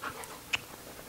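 Two huskies out on a walk pant softly and let out faint whimpers, with a brief sharp sound partway through, heard close by and with no talking.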